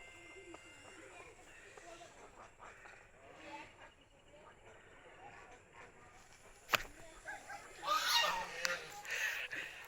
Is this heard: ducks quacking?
yes